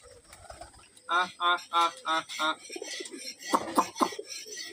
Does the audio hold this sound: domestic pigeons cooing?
yes